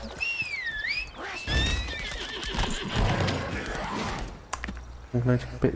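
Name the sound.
horse neighing and galloping in the video game Lost Ark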